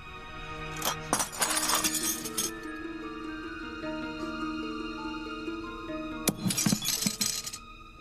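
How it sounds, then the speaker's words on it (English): A martini glass shatters in a soap-opera scene, with two bright bursts of breaking, clinking glass set against sustained dramatic music tones. "was shattered. Just like this martini glass."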